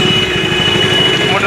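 A motorcycle engine idles steadily nearby at a roadside police vehicle check for helmetless riders, a continuous low rumble that stays loud throughout.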